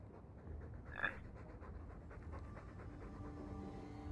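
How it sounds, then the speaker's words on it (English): A dog panting in Dragon Age II, a steady close breathy rhythm running throughout, with a brief brighter yelp-like sound near the start and game ambience underneath. "All that noisy dog breath, day in, day out."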